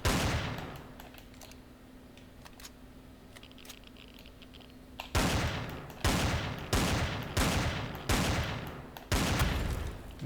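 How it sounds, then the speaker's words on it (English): Tier 1 rifle in the game Empyrion firing at a core: a quiet stretch with a few faint ticks, then six loud, sharp shots spaced roughly a second apart, each with a short decaying tail. "As you can see, it takes quite a few shots with a tier 1 rifle."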